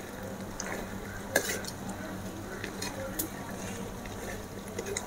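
Pepper powder being stirred into egg paniyaram gravy in a pan: soft, steady scraping with a single sharp utensil clink, low and close over a faint simmering background.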